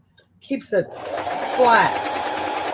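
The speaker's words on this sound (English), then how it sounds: "now that I'm sewing on it, I can see that it's wider in some places" A sewing machine quilts a holiday wall hanging, its motor humming steadily and rising in pitch as it stitches, with someone talking over the start.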